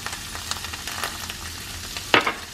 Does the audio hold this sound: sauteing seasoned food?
yes